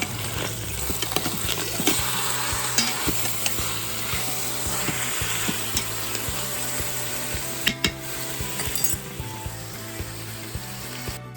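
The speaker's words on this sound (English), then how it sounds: "you just keep stirring this" A roux being stirred in a pot over heat: steady loud sizzling and bubbling throughout, with a spoon scraping and knocking against the pot in irregular strokes.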